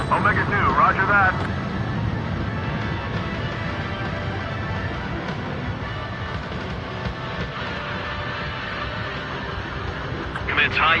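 A fighter jet in the video game Ace Combat 7 roars steadily through a split-S maneuver, a dense sustained engine rush with louder swells at the start and end, close and full over the whole stretch.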